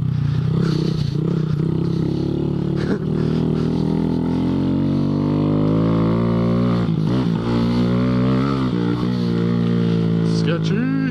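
Honda Grom motorcycles on street tires ride off-road through soft sand at Colliers Mills in Jackson, New Jersey. Engines drone loudly and steadily up close, pitch rising and falling with throttle, under a constant wind rush.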